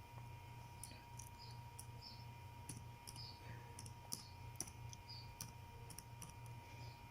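Soft, scattered keyboard clicks as text is typed into a website search box, irregular taps at moderate distance over a steady low electrical hum, with no voices.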